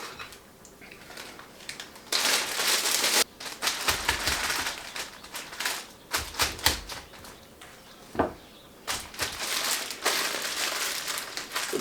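Plastic Ziploc bag crinkles and rustles in bursts as it is filled and handled for stuffing armadillo eggs, with sharp crackly handling noises starting and stopping irregularly, close up and fairly loud, no talking.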